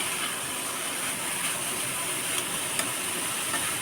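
Carrots frying slowly in a pan on low heat for a carrot payesh, a steady soft broadband sizzle and hiss that stays even and constant, close by with no talking.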